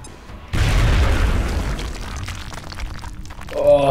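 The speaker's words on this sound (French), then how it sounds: "Je l'ai explosé." A single loud, booming explosion from the strategy game XCOM: Enemy Unknown bursts in after a brief quiet, then its rumble slowly fades away alone.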